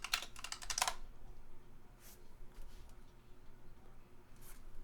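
Typing on a computer keyboard to open a terminal and start Python: a quick burst of close key clicks in the first second, then two or three faint isolated taps over a quiet background.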